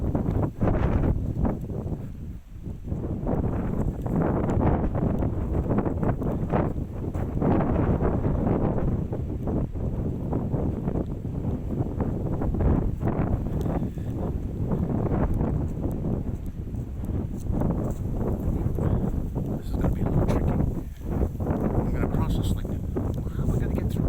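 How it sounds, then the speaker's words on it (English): Strong wind blows outdoors in white-tailed deer country, a steady loud roar buffeting the microphone the whole time, with someone speaking quietly under it. "Wind's high,"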